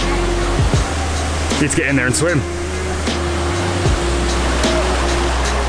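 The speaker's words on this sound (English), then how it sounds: "Amazing waterfall, and then there's a giant pool at the bottom of it." A large waterfall pours steadily into a giant pool at its base, a loud continuous roar of falling water running throughout while people talk over it nearby.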